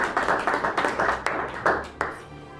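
Church congregation clapping in a rhythmic series of sharp claps at a Sunday service, fairly close and steady for a few seconds before tapering off, with no voices over it.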